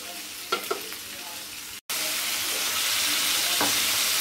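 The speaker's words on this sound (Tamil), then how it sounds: "இப்போ வந்து நம்ம ஒரு கைப்பிடி புதினா போட்டுக்கலாம். பாருங்க, இதை வந்து அப்படியே வதக்கிடலாம்." A handful of mint leaves sautéing in a pan, a continuous close sizzle with a few stirring scrapes, briefly cut off for a moment and then resuming, with no voices.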